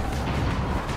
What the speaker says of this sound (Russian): здесь используются обычные хлопушки, как вот эти взрыв-пакеты нами любимые